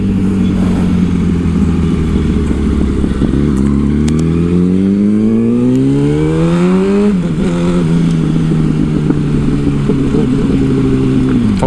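A 2008 Yamaha R1 sport motorcycle engine revs loudly and steadily while being ridden, its pitch climbing through a long acceleration, dropping sharply at a shift, then holding a high, even drone, close and continuous with no talk.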